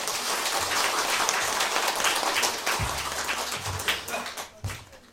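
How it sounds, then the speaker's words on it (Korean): A church congregation claps during a Thanksgiving Sunday service, a loud continuous burst of applause that gradually loosens, with a few low thumps and murmurs near the end. "우리 박수로 하나님께 영광 드리겠습니다"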